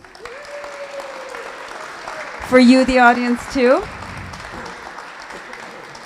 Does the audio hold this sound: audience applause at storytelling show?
yes